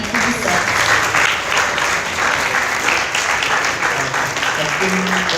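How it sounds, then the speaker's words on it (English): Large graduation crowd clapping for the graduating class of 2026, loud sustained applause filling the hall, with faint murmured voices and a few brief tones beneath the clapping. "please give another big round of applause to the graduating class of 2026."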